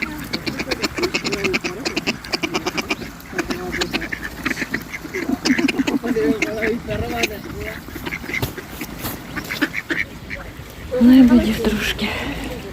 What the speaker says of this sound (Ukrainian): побули біля птахів і лебедів